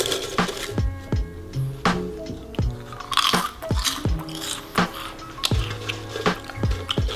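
Homemade potato chips seasoned with salt and pepper crunch loudly and close up, sharp irregular bites followed by steady chewing crackles.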